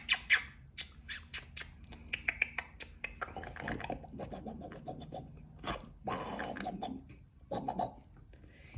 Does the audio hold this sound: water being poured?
no